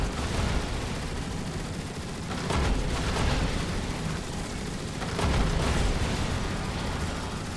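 Turret fire from the video game Transformers: War for Cybertron thunders in dense, continuous bursts of blasts and explosions, loud and close, with two heavier surges and no speech.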